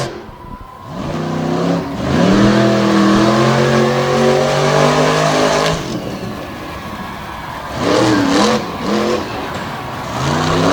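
A race car with a metal shop chassis and Steve Schmidt motor doing donuts on a slick surface at a Renegade Round Up event, its engine revving loudly and rising and falling in pitch in sustained bursts, close and dominant.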